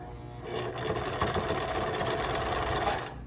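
A sewing machine stitches through fabric at a steady fast hum, a dense mechanical whir that runs unbroken and close for a few seconds with no voices.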